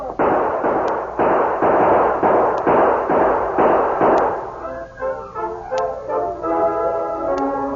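Gunfire effects in a Lone Ranger radio drama: a rapid run of loud, booming shots in quick succession, then fading into orchestral music with sparse hits.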